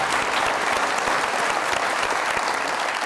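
A studio audience at a Pakistani late-night comedy talk show claps steadily for a guest, a full, even roar of many hands sustained for about three seconds, close and without speech on top.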